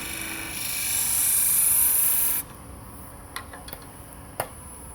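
A tool scraping the end grain of a wooden block spinning on a lathe gives a steady, loud, hissing whine for about two seconds, then stops, leaving a quieter hum with a few short clicks.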